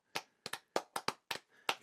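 Seven soft, sparse hand claps, a slow and deliberately unenthusiastic golf clap, come from close by in a quiet room with short gaps between them.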